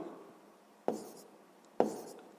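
Pen strokes writing out a sixth-grade math solution on paper: two short, crisp scratchy bursts close to the microphone, each fading quickly into quiet, with no voice.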